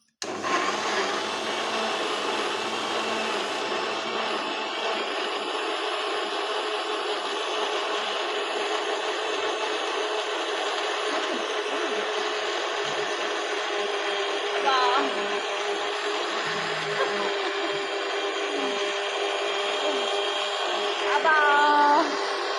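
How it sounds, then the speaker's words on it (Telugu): A mixer grinder blending fruit with milk for juice, its motor whining loud and continuous close by, with faint voices briefly heard beneath the steady roar. "మళ్ళీ ఒకసారి మిక్సీ పట్టుకుందాము కొంచెం మెత్తగా"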